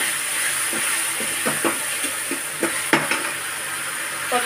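Chopped tomatoes tumble into onions already frying until translucent in a pan, giving a steady hiss and sizzle with a few close clinks and stirring scrapes against the pan, no talking.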